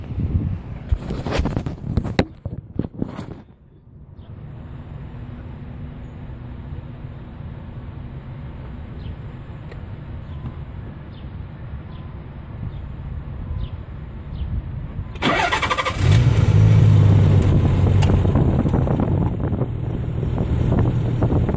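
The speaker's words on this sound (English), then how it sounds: "I'm gonna turn the car on now and let you listen to it." Muffled rumbling and handling noise, then a 1990 Nissan 300ZX twin turbo engine catches and settles into a loud, steady, deep idle that continues to the end.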